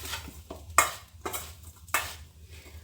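Spoon mixing a carrot, radish and green chili pickle in a bowl, with repeated wet scraping strokes and a few light clinks, close up.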